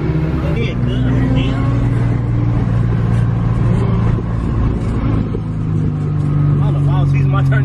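Car drifting at a Saturday drift session with crashes and donuts, a loud continuous engine drone with revving and tire noise throughout, while people talk over it.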